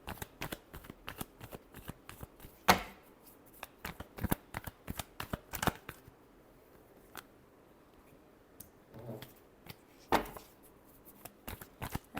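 Tarot cards being shuffled by hand, a quick series of crisp riffling and flicking bursts, close and fairly quiet, alone with no talk.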